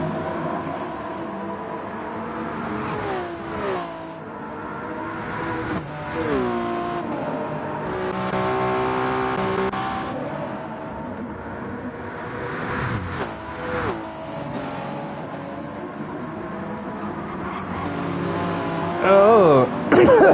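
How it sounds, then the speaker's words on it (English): A Corvette race car in an endurance racing game at São Paulo roars past with a rising and falling engine note and brief tire squeals, while commentators talk over it throughout. "I don't recognize that engine pitch. That's not a hypercar. No, it isn't. That's a Corvette."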